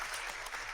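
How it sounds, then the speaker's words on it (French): An audience at a public debate claps steadily in dense, continuous applause, filling the moment evenly without pauses. "On applaudit monsieur."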